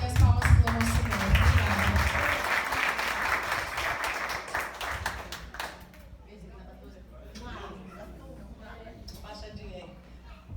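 A church congregation claps loudly and densely for about six seconds during a mother's testimony, then the applause fades and voices talk.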